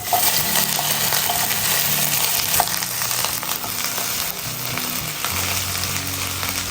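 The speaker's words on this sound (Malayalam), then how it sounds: "അപ്പോൾ ഞാൻ ഇതിനകത്തേക്ക് നമ്മൾ വെണ്ടക്കായ കട്ട് ചെയ്തിട്ട് ഇട്ട് കൊടുക്കും." Cut okra slices hit hot oil in a pan and fry with a steady, close crackling sizzle, broken by occasional clinks and stirring scrapes.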